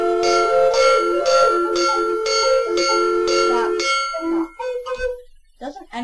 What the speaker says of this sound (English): Cowbell, start us out again.